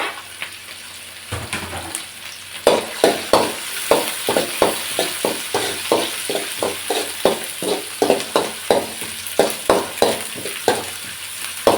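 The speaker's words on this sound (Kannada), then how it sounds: "ಇದಿಷ್ಟು ಇವಾಗ ಎಣ್ಣೆಲಿ ಫ್ರೈ ಆಗಿದೆ. ಇವಾಗ ನಾನು ಇದಕ್ಕೆ ಟೊಮೊಟೊನ ಸೇರಿಸ್ತಾ ಇದ್ದೀನಿ" Chopped tomatoes fry in hot oil for vangi bath while being stirred, so a constant sizzle is broken by a regular series of scraping stir strokes, close and fairly loud, with no talking.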